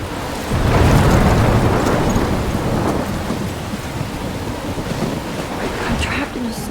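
A dense, loud storm from the video game Life is Strange, with steady rain and ocean waves crashing as a continuous roar and low rumbles building through, with no voice over it.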